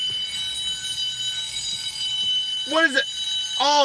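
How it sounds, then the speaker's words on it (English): Alarm bells ring continuously with a steady, bright, high-pitched tone, and a voice speaks briefly over them near the end. "that's the sound of alarm bells,"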